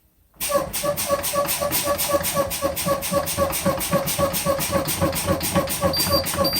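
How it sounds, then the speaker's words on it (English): A truck's low air pressure alarm, a loud warning buzzer, pulses in a fast, even rhythm, sounding continuously over a low mechanical rumble. "that is my alarm and indicator"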